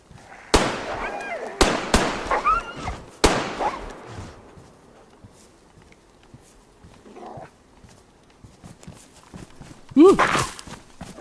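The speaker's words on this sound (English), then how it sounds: "How many shots before the Glock jams?" A Glock pistol fires in DayZ on a hardcore Namalsk server: three or four sharp, loud shots come close together early on, with fainter impacts later and a voice talking.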